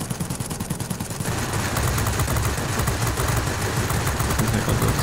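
Rapid, sustained fire from an aircraft's top turret gun in the World of Warplanes game: dense, continuous bursts over a low engine drone, loud and close, with no speech.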